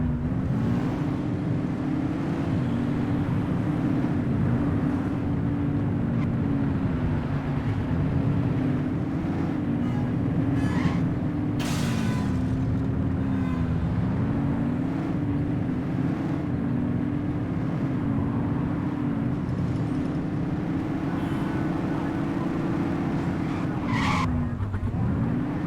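Car driving fast with a steady engine drone and tyre skids during a police chase in the game The Precinct, set in Averno City, with a continuous revving tone that dips at turns and a brief squeal near the end.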